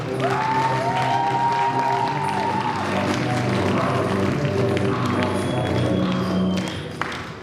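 Loud, sustained applause from a large student audience at a KVN comedy final at Bashkir State University, following the law institute team's performance, with cheering, whistles and crowd voices mixed into the clapping.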